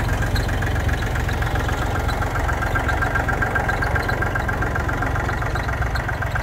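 A small tractor loader's engine idles steadily at close range, a continuous low rumble with a faint rhythmic knock and no talking.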